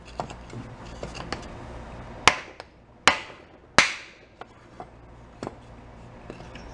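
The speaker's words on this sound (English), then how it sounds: "So let's go get ourselves some wood, a hammer, and give some love taps." A hammer tapping on wood in a workshop, with three sharp loud strikes spaced about a second apart, followed and preceded by lighter scattered taps and small knocks.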